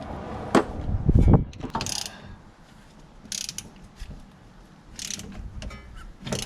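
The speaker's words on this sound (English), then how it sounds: "So we're going to rotate and push at the same time. This tends to be a slow process." Caliper piston tool rotating a brake piston back into a Mazda 3 brake caliper, giving irregular ratcheting clicks and scraping mechanical bursts separated by quiet gaps.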